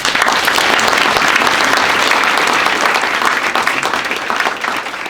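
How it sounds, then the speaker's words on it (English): Loud, sustained audience applause filling a room at a public library's 100-year anniversary ceremony, steady dense clapping throughout with a slight fade at the end. "I want to give everyone here in this community a round of applause"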